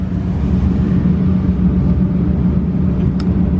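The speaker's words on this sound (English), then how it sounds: "It's got a super loud N1 exhaust, little bullet mufflers." A Honda S2000 with a super loud N1 exhaust and small bullet mufflers gives a steady, heavy low rumble, close and constant throughout with no talking.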